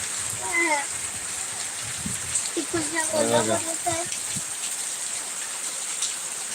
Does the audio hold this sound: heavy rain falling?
yes